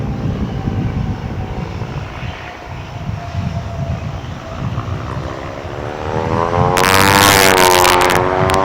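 An airliner crosses runway 18 right at DFW International Airport, its engine roar steady and fairly loud before swelling and rising in pitch near the end as it passes close.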